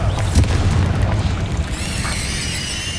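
A Bombarda blasting spell detonating in Hogwarts Legacy, a deep rumbling boom with low-end thuds, followed by a bright ringing magical shimmer as the blast settles.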